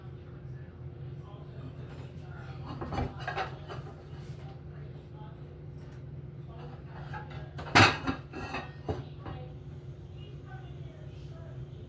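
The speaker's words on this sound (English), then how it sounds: "Let's get these dishes in here." Dishes being put away in a small apartment kitchen, with scattered clatters of plates and utensils, including one sharp clink near the middle, under a steady background hum.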